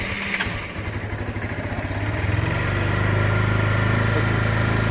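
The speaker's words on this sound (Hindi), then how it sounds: "मतलब जिम से पहले करते हैं मोटरसाइकिल को कोल्ड स्टार्ट" A cold motorcycle engine starts on choke and settles into a steady, loud, fast idle close by, with the chugging firing rhythm smoothing out after a rough first couple of seconds.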